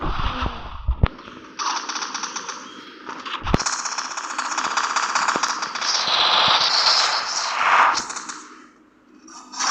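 Gunfire in the mobile shooter game Free Fire: loud rapid automatic bursts and sharp single shots crackle in quick succession over roughly ten seconds, easing off near the end.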